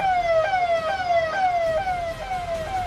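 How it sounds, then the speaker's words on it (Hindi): An ambulance siren wails in a fast repeating falling sweep, loud and close, stuck in a traffic jam caused by tractor trolleys blocking a road during a farmers' protest, with faint traffic rumble underneath. "और इस जाम की वजह से एम्बुलेंस फंस गई।"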